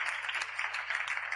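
An audience applauds with steady, even clapping, faint and fairly distant, filling the short stretch without pause.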